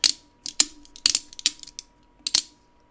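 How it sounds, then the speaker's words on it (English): A Demko AD20 folding knife, made in the USA, works its mechanism and gives crisp metallic clicks and snaps. They come in short bursts with small gaps between them, up close and clear in an otherwise silent room. "It's just, it makes the best knife sounds in the history of knives."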